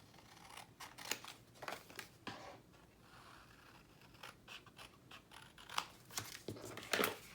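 Scissors snip and trim paper from a folio template in a quiet room, a series of short crisp cuts, some in quick pairs, at close range with no talk.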